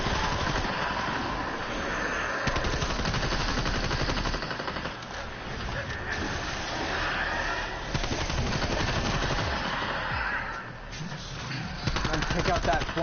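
Rapid automatic gunfire from a zombies video game, a loud, near-continuous rattle of shots in long bursts over the game's sound, with brief lulls between volleys.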